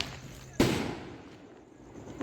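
A large firework rocket goes off during Diwali, a sharp close bang with a crackling burst that fades into a hiss, followed by another rising noise at the end.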